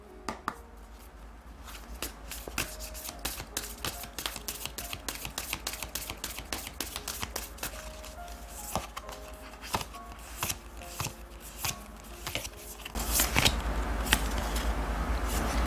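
Oracle cards being shuffled by hand, soft close riffling and tapping in irregular bursts over a quiet background, growing busier and louder toward the end.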